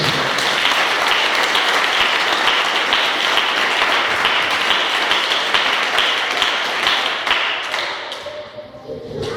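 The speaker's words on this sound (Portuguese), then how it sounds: "Dê um aplauso a Ele, porque Ele merece." Sustained congregation applause in a church service, loud and dense with many hands clapping together, tapering off slightly near the end.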